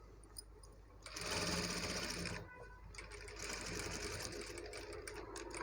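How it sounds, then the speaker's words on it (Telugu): A sewing machine runs top-stitching on a blouse in bursts of rapid, close mechanical chatter, pausing briefly before resuming, with a faint voice in the background. "ఒక టాప్ స్టిచ్ వేసేయాలండి."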